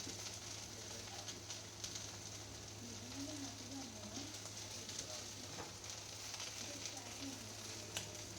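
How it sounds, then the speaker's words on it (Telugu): Vegetable pieces simmering in sambar with salt and tamarind juice, a faint continuous bubbling sizzle with a low steady hum underneath and a quiet voice at times. "ముక్కలు ఉడుకుతుందండి"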